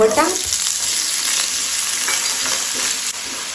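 Mustard seeds, cumin and green chillies frying in hot oil for a Goan cabbage bhaji, a loud, steady crackling sizzle with a few sharp pops early on, continuing alone without speech.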